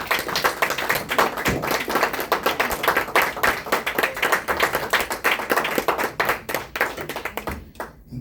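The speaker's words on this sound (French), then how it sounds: "S'il y a la joie, on peut juste acclamer pour la gloire de Dieu" A church congregation clapping together, brisk rhythmic handclaps from many people close by, continuing steadily before trailing off near the end.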